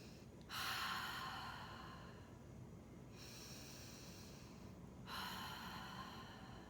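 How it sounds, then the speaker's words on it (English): Deep breaths drawn in through the nose and released through the mouth during a beginner yoga session, three long airy exhalations spaced a couple of seconds apart, close and fairly soft with no talking. "let's just start with 3 deep breaths"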